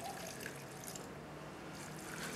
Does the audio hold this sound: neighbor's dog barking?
no